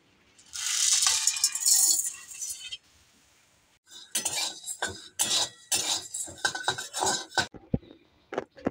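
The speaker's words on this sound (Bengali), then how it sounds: "এগুলো আমি এখন শুকনো খোলায় একটু ভেজে নেব" Whole cinnamon, cardamom and cloves rattle and clink as they dry-roast in a pan for a meat spice mix. A dense burst of scraping is followed by a pause, then irregular sharp clatters and stirring taps, close and fairly loud.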